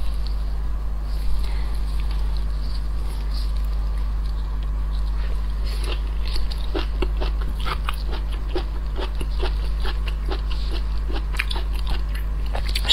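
Close, wet chewing of cooked arctic surf clam seafood, with repeated soft crunchy bites and clicks over a steady low background hum, no talk.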